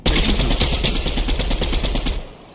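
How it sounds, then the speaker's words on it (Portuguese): Rapid automatic gunfire from a PC video game, a dense sustained burst of shots close and loud for about two seconds before cutting off. "Tá tendo tiro nas costas aqui"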